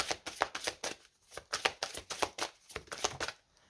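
Tarot cards riffle and slap together in quick rhythmic bursts, a dozen or so crisp shuffles, close and soft, with no talking.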